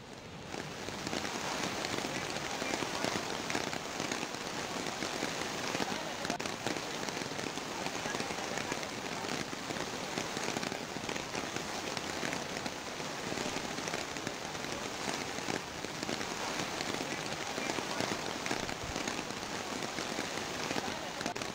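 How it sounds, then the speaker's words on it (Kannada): Heavy rain pours down in Udupi, Karnataka, a dense, unbroken hiss of drops striking surfaces that stays loud and constant throughout. "ಈ ಟೈಮ್ನಲ್ಲಿ ಧಾರಾಕಾರವಾಗಿ ಮಳೆ ಬಂದಿದೆ, ಎಲ್ಲ ಕಡೆನೂ ಕೂಡ ನೀರು ಹರಿತಾ ಇತ್ತು"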